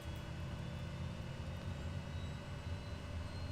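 Engine of a Kodiak aircraft in a flight simulator spinning up during start, a steady loud broadband drone with low rumble and faint tonal whine, continuous and alone throughout.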